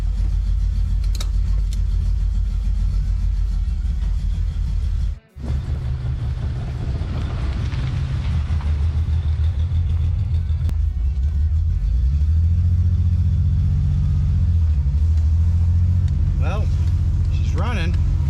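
BMW 733i engine running as the car drives off, with a steady low rumble that briefly drops out, then rises and swells as it pulls away, under occasional talk.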